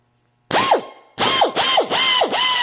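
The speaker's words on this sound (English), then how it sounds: "I've cleaned this up too, the ratchet, and put some elbow grease into it" A restored vintage ratchet from an impact wrench clicking loudly and close, one burst followed by a short pause and then three quick rhythmic ratcheting strokes, each with a whirring rise and fall, no speech.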